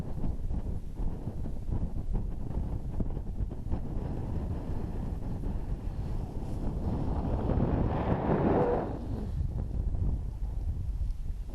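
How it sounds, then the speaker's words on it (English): Wind gusts roar across an exposed hilltop on Grindslow Knoll, Kinder Scout, in the Peak District, a loud continuous buffeting that swells near the end, with no voices. "It's quite breezy"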